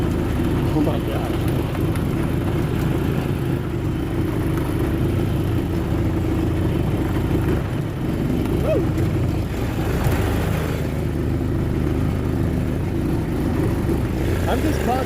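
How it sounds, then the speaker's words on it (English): A Kawasaki Mule UTV fitted with a Duromax 440cc engine spins its tires on a frozen lake, producing a continuous loud engine drone and whir with people talking over it. "I'm just constantly spinning the tires."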